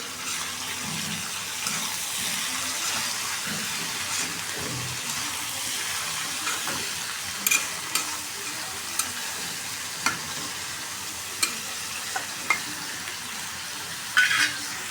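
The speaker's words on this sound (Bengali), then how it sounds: "করল্লা ভাজিটা বসাই দিচ্ছি।" Bitter gourd fries in a pan with a steady, close sizzle, while a series of sharp clinks and scrapes from stirring punctuate the second half.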